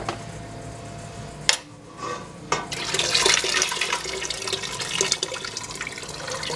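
Sausage and vegetables dropped low into a pot of gumbo, a sharp plop followed by a sustained, bubbling, watery sizzle and splash that fills the rest of the moment, close and fairly loud, no speech.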